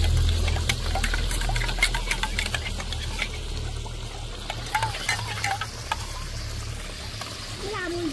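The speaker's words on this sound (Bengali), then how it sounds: "খুব ভালো করে দুধটাকে গুলে নেব।" A spoon stirs powdered milk into water, making light scraping clinks at an irregular pace over a low background hum.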